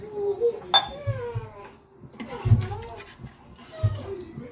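A spoon clinking and scraping against a pot while chicken soup is stirred, giving a few sharp metallic knocks under a voice talking nearby.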